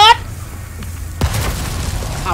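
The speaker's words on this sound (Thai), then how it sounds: "ระเบิด" Explosion in the video game Resident Evil 4 Remake: a single sudden broadband boom bursts out partway through, followed by a lingering rumble, with a voice speaking at the start.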